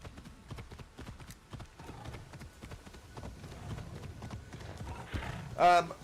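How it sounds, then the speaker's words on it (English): Horse hooves clip-clopping along a road in the video game Assassin's Creed Shadows, a soft steady rhythmic trot under someone talking, ending with a brief neigh. "I love this horse, by the way."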